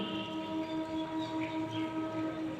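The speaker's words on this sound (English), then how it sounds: "train sound" A train passing in Bangladesh, its steady rumbling drone with sustained tonal hum rising and falling in gentle waves, loud and continuous without speech.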